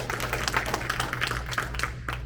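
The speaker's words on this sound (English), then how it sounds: "Can we give her one more round of applause?" An audience at a candidate forum gives a short round of applause, fairly faint and brief, over a steady low hum in the room.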